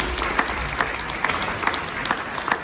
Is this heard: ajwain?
no